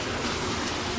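Heavy rain pours down in a dense, loud, unbroken roar of broadband noise filling the whole moment, with no voices.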